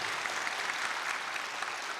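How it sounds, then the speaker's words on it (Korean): Church congregation clapping after a prayer, a steady, moderately distant wash of many hands applauding without pause. "주님께 감사와 영광의 박수 올려드리겠습니다."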